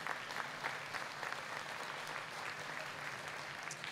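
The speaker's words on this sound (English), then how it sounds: "Yeah, you can clap for that if you want." Quiet, distant audience applause at a school percussion night, scattered clapping holding steady for a few seconds with faint crowd murmur underneath.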